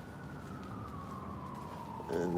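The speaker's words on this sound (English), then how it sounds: "the siren is getting louder" A siren wails steadily in the distance, its tone slowly sliding downward, with a louder burst of noise near the end.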